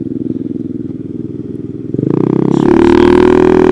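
A Honda Ruckus scooter with a swapped-in GY6 engine putters close by at a low pulsing idle, then the throttle opens and the engine rises into a louder, higher buzzing whine as it picks up speed.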